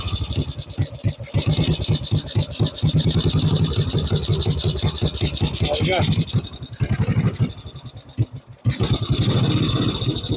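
A Norton Big 4 motorcycle with sidecar, its single-cylinder engine idling with a steady, loud, close thump that dips briefly near the end as someone speaks over it.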